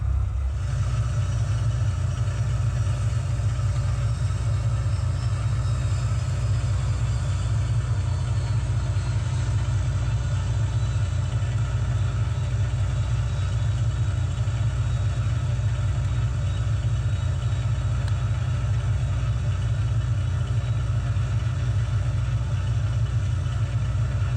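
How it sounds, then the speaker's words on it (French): A PA28 light aircraft's piston engine running up at the runway 10 holding point, a loud, steady, droning rumble heard from inside the cabin throughout, with no talking. "on va faire nos essais moteurs."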